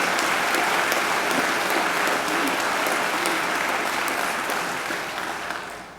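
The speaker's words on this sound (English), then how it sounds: "I think he deserves another great round of applause" Sustained, dense applause from a large audience at a university graduation ceremony at Macquarie, steady and loud throughout before tapering slightly at the end, with no voices over it.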